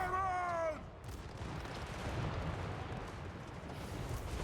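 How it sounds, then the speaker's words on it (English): A dwarf flame cannon fires in the Warhammer Old World video game, a tonal whine giving way to a sustained, dense blast and roar of fire and battle that continues loudly throughout. "Flame cannon!"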